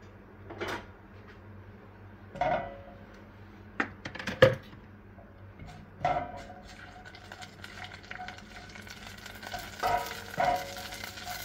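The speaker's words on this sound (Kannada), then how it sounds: "ಸ್ವಲ್ಪ ಮಸ್ಟರ್ಡ್ ಸೀಡ್ಸ್ ಎಲ್ಲ ಕ್ರ್ಯಾಕ್ ಆಗಲಿ" Mustard seeds and cumin crackle in hot oil for a mango-style raw banana curry, with scattered sharp pops and ticks over a low, steady sizzle and no talking.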